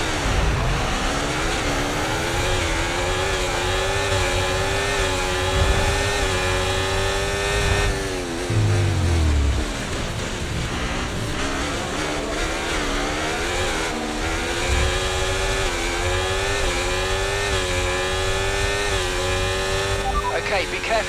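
An F1 24 video game race car launches off the start line, the engine note climbing through rising gear sweeps and dropping at each shift, loud and continuous under someone talking.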